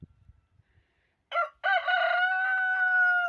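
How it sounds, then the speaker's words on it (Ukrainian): A rooster crows loudly and close by in a chicken yard, one long drawn-out call after a short opening note, with faint clucking before it. "півень співає на замовлення"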